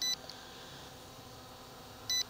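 A drone remote controller for a MY-MAX M105 drone gives two short electronic beeps, one at the start and one near the end, over a faint steady background hiss.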